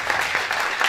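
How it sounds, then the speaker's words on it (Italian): Applause for local sports clubs at a town sports awards event in Rivarolo Canavese, a short, steady burst of many hands clapping at moderate loudness. "Un applauso a voi quindi, perché bravi davvero."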